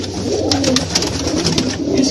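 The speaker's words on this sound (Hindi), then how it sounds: "ये उड़ने वाले कबूतर है" Pigeons cooing up close at a pigeon market in Old Delhi, low, throaty repeated calls layered over one another with a steady murmur of birds in the background.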